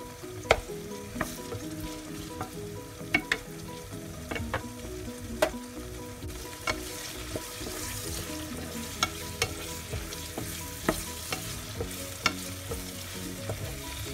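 Chili and garlic fry in oil for sambal terasi, sizzling steadily at close range while a spatula clicks and scrapes against the pan in sharp, irregular taps.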